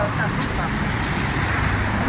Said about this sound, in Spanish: a ver lo que nos deja escuchar el tráfico